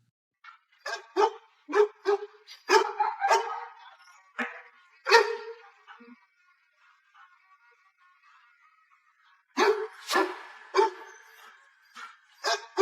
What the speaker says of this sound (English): the dog refuses to back down, growling and fixated on one specific direction